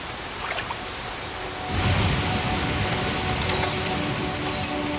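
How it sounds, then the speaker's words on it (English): A heavy dry-season downpour in the Amazon rainforest hammers down as a dense, steady roar, swelling abruptly about a third of the way in and staying loud and unbroken to the end. "The jungle still gets heavy downpours."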